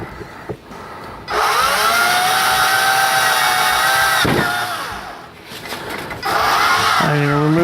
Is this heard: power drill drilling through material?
yes